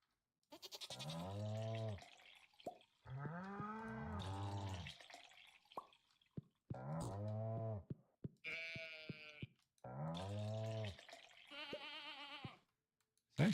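Repeated bleats from sheep in the farming video game Stardew Valley, a series of loud, close wavering calls separated by short pauses, with no talking over them.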